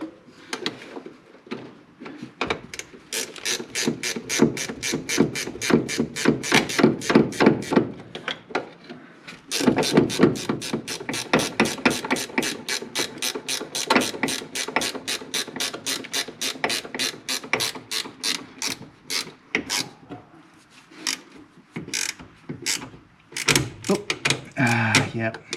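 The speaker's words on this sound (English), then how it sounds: "Yep, ratchet, and this one's damaged, I remember." A ratchet wrench works bolts on a Courier, with rapid repeated clicking bursts that stop and restart over about twenty-five seconds, close and loud, with pauses between runs.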